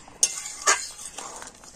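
Metal pot lid lifted off a pot of potato curry (aloo dum) with peas, giving two sharp clinks close up, then a soft rattle and faint kitchen hiss.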